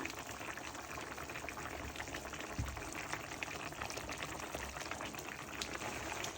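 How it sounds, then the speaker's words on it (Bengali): Malabar spinach and shrimp curry simmering at a boil in a covered pot, a steady dense bubbling and hiss that holds evenly throughout with no voices. "দেখেন কি সুন্দর বলক উঠতেছে"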